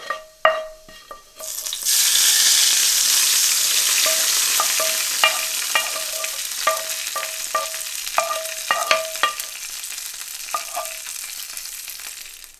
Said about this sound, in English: So let's transfer this tadka to our aubergine pan.